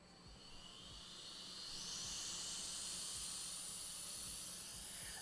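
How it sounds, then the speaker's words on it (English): Homemade brushless motor turbo air blower spinning up, a steady whooshing hiss whose high whine climbs in pitch over the first two seconds then holds at speed, close and alone. "And just like that, the air blower is ready."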